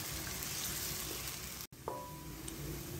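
Two finely chopped onions fry lightly in hot oil in a pan for beef karahi. The sizzle is soft and steady, with a brief break partway through and then a few small clinks.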